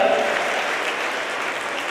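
An audience claps loudly together at a teachers' honouring ceremony in India, a dense sustained round of applause that stays strong, slightly fading toward the end, with no voices over it.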